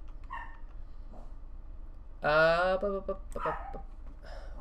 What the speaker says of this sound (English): what is with all the barking?